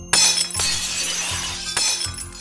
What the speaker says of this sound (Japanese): 花瓶やテレビ、窓ガラスに電子レンジ、子供たちは家中のありとあらゆるものを壊して回った。